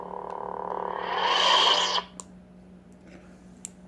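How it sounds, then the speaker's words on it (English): A Luke Skywalker Episode 6 lightsaber sound font on an LDM MK-VI saber, a steady electronic hum that swells into a loud distorted surge, then drops back to the low idle hum with a couple of faint clicks. "let's move on to the other 5 sound fonts, which are Luke Skywalker sound fonts from episode 6"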